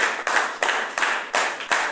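A congregation claps in unison in acclamation at a prayer service, five or six strong, evenly spaced beats, loud and close, each ringing briefly in the hall.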